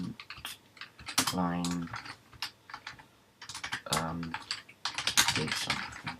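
Computer keyboard keys clatter in quick bursts while Go code is typed, the rapid clicks interleaved with someone talking over them at close range.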